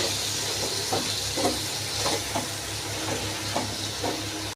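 Finely chopped tomatoes sauté in a pan for mutton chukka, sizzling steadily up close while a utensil stirs them in regular scraping strokes about every half second. No one speaks.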